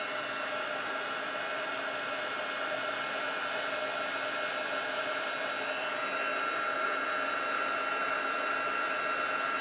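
A heat embossing tool blows in a steady, loud, even whoosh with a constant whine, running alone and unbroken throughout.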